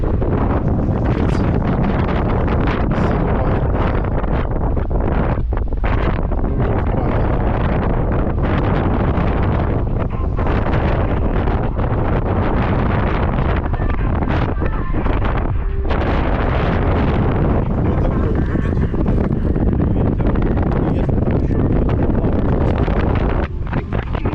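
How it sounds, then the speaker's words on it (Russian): Strong coastal wind in Crimea in April hammers the microphone in a loud, relentless roar with gusty rumbling bursts throughout, dense and close with no clear talking. "Вот тут ветер такой."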